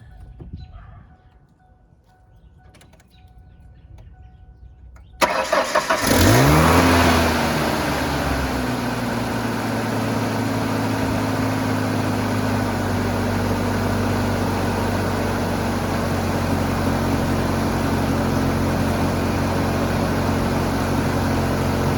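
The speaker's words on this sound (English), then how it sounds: "That's one thing I can say about this truck is he always starts." After a few seconds of near quiet, a truck engine cranks and catches abruptly, settling into a steady close idle that runs on.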